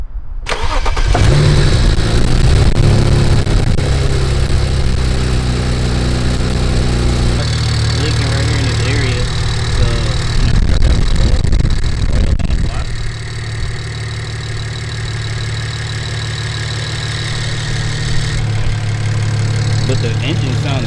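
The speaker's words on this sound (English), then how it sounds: "But the engine sounds really good." A BMW 335i engine cranks and catches, then settles into a steady, loud idle that runs on, with a person talking faintly over it.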